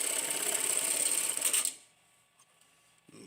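A THOR GT-1900B-IP electronic tacker stitching a dog collar runs in a steady, loud, rapid mechanical chatter for under two seconds, then stops abruptly, leaving near silence with a few faint clicks.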